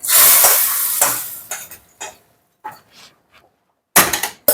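Hot oil with asafoetida bursts into loud sizzling as a mixture is poured in for a Tamil onion vatha kuzhambu, then short stirring and clattering pan sounds follow in separate bursts with pauses between them.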